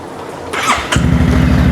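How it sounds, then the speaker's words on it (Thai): A used motor scooter with an aftermarket exhaust starting up close by: a brief starter whir, then the engine catches and settles into a loud, steady, pulsing idle. "เดี๋ยวเรามา สตาร์ทรถกันดีกว่า"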